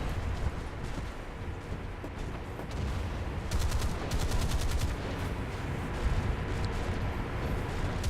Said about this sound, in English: I'm not sure who's shooting me, if it's just that destroyer or if it's someone else